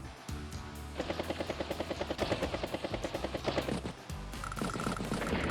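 Helicopter-style whirring with rapid rhythmic chopping and bursts of gunfire from a battlecopter attacking another battlecopter in the Advance Wars strategy game, a loud, steady pulsing run over several seconds with a brief tonal beep near the end.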